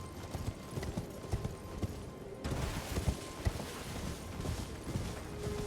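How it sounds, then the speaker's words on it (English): Hooves of a horse gallop in a fantasy video game, a rapid steady clip-clop rhythm with rustling ambience behind it, continuous and moderately close. "Ride, horsey, ride."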